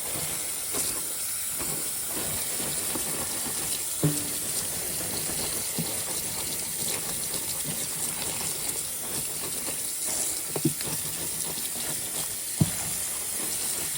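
Tap water runs steadily into a kitchen sink while turnip greens are washed, a constant close rushing hiss with a few soft knocks and splashes and no talking.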